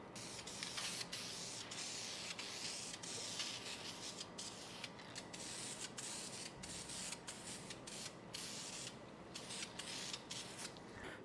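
Aerosol spray paint dusting on as a light final coat over a wheel in a home garage, a steady close hiss running without a break, with faint rubbing and clicking ticks mixed in.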